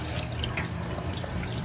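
Tap water runs steadily into a sink as fried-tomato tomatoes are rinsed beneath it. A continuous close splashing lasts under two seconds with no voices.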